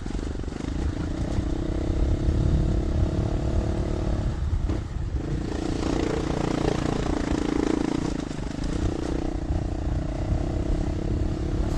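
A dirt bike engine runs steadily with a throaty mid-range drone, the revs lifting and falling slightly around the middle, loud and close with no talking.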